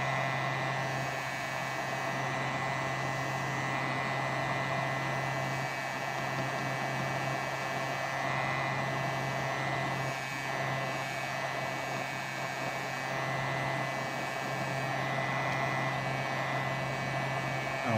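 Heat gun blowing on a dead iPhone 6 Plus during repair, a steady close whooshing airflow with an even motor hum, unbroken and constant from start to finish.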